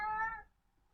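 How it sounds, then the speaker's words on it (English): A house cat gives one clear, tonal meow up close that fades out within half a second, followed by near silence. "I'm sorry, that was my cat."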